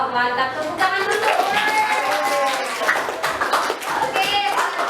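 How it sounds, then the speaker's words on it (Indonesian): A school class of children claps hands together in a lively burst of close, uneven clapping, with children's voices and chatter mixed throughout. "Tepuk tangan dulu."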